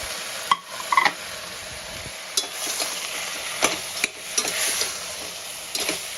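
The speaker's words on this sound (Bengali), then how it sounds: "এবার আমি কুচি করে কেটে রাখা টমেটোটা দিয়ে দেব।" Chopped tomato frying in a pan while being stirred for South Indian tomato rice; a continuous sizzle broken by several sharp scrapes and clinks of a spoon against the pan, close and alone.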